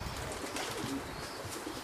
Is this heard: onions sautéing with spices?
no